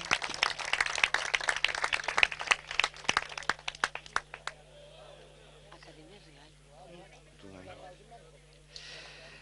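Sixth-place team at an intercultural friendship tournament's trophy ceremony receives a burst of crowd clapping, dense and lively for about four seconds before thinning out, after which a voice speaks over a reverberant public address system.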